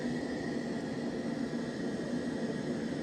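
An iPad plays steady white noise in a bedroom, a constant soft hiss with a low hum beneath it, unchanging and alone, at moderate level.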